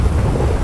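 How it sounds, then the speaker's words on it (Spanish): Rain and thunder in a GTA roleplay game form a dense, steady low rumble with a rushing wash, loud and continuous through the short stretch, with no voices. "¿Empezó a llover?"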